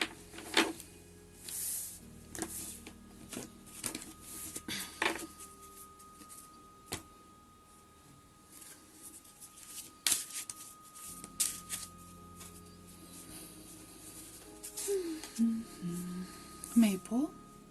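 Oracle cards shuffled for a tarot reading give soft, repeated riffling and rubbing bursts, close up, with quiet gaps in between and some speech alongside.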